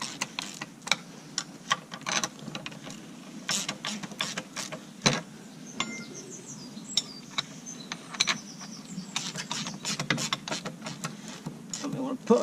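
A ratchet tightening the bolts on a slurry mixer bearing housing in turn, giving close, rapid clicking bursts with short pauses and a faint mechanical background.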